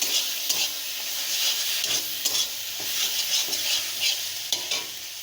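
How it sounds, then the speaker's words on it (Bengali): Ground mustard paste being stirred into taro greens with prawns in a sizzling pan, a steady frying hiss with repeated scraping strokes of a spoon, close and continuous. "ওই কিছুটা সর্ষে আমি দিয়ে দেব, দিয়ে এটাও ভালো করে মিশিয়ে নেব"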